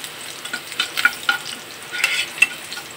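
Onion frying in a pan for a dried-fish and watermelon-rind curry, a steady close sizzle broken by scraping stirs and small clinks, with no talk.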